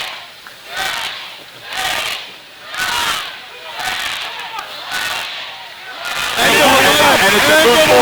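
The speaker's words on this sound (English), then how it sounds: "I'll let the crowd count." Crowd at a New York State drill competition counting aloud in unison, loud rhythmic shouted bursts roughly once a second, swelling into a sustained roar near the end.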